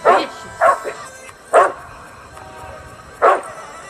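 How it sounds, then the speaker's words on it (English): A dog in a music video barks in four sharp, loud bursts spaced unevenly over a few seconds, with a faint music bed beneath. "That dog is vicious."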